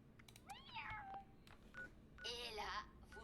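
A voice actress imitates a small cat's meow in Fallout 76, giving two faint, rising-and-falling mewing cries separated by a short pause over quiet background sound.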